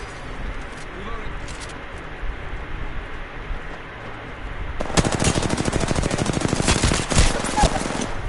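Rapid automatic gunfire in the battle royale shooter Apex Legends bursts in after a quieter stretch, a dense, loud rattle of shots that keeps going for several seconds with a few pauses.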